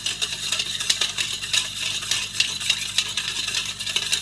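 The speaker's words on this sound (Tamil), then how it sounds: "சீனி கரையிற வரைக்கும் ஓரளவுக்கு வந்து மிக்ஸ் பண்ணி எடுத்துக்கோங்க" A spoon stirs sugar and cardamom into junnu milk in a metal pot, making quick, repeated clinks and scrapes against the vessel in a busy, close rhythm with no talking.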